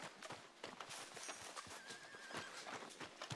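A horse in the video game Red Dead Redemption 2 clip-clops in a quick, uneven rhythm and lets out a neigh, with hoofbeats close and fairly loud.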